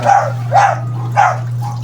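A tied-up dog barks three times at a steady pace, fairly close, over a constant low electrical hum, with a softer fourth yelp at the end.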